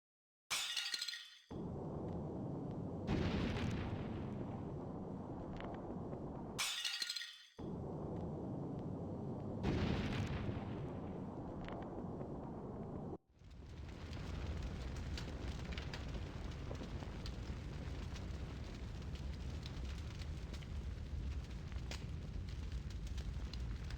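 Fire in the video game Octopath Traveler 0, with bursts of crackling flame and breaking, clinking impacts that flare up several times, then settle into a steady, loud roar of burning.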